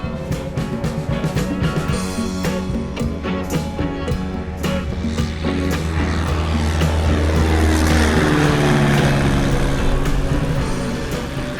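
A Cub light airplane makes a low pass at a fly-in, its propeller engine droning loud and close, the pitch sliding downward as it roars by and then recedes.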